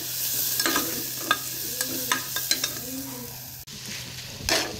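Bitter gourd frying in a pan at home, with a steady sizzle and hiss under repeated stirring scrapes and light clinks of a utensil against the pan, close by and without talk.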